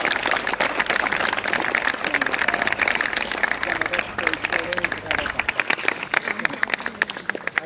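Sustained clapping from an audience at a youth baseball league award ceremony for outstanding players rolls on steadily for several seconds, dense and fairly close, with voices murmuring underneath.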